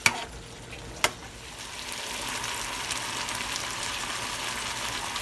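Green beans stir-frying in a pan, cooked as a side for lobster and mashed potatoes, give a steady close sizzle with two sharp clinks of a utensil against the pan near the start.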